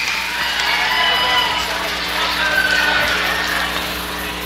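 A big crowd at a high school boys basketball game between South Charleston and Greenbrier East fills the gym with a steady, dense roar and murmur, with voices mixed in.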